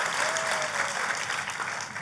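A church congregation applauds, a dense, steady wash of clapping from many hands that continues evenly throughout.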